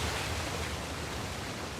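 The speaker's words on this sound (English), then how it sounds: "Another waterfall." Steady, broadband rushing roar of a waterfall in Uncharted The Lost Legacy, constant and even throughout with no breaks, fairly quiet and alone.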